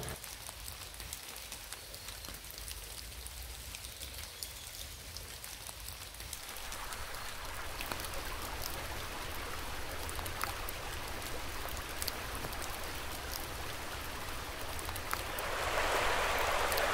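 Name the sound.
rain falling on a hiking trail in Scotland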